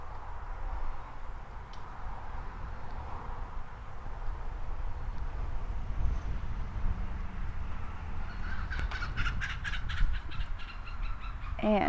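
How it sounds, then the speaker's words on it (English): A backyard chicken squawks loudly in a frantic burst of harsh, repeated calls toward the end, after a stretch of steady outdoor background noise. "There's a chicken going crazy in my yard."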